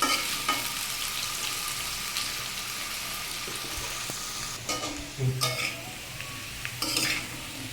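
Potatoes and soya chunks being sautéed in a pan, a steady sizzle broken by spoon scrapes and clinks against the pan, with a couple of louder stirring bursts near the end.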